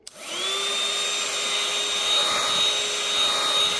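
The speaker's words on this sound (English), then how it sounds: "what you want to do is you want to vacuum" A vacuum cleaner runs steadily close by, clearing debris from the joints of vinyl floor planks. It starts up with a brief click and then holds a loud, constant whine and rush with no speech.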